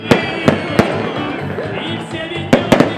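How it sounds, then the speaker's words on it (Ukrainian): Festival fireworks salute at night after a seaside festival in Odesa, a series of sharp cracking bursts, several spaced apart and a quick cluster near the end, over a soft background murmur. "По завершенню фестивалю організатори подарували усім святковий салют."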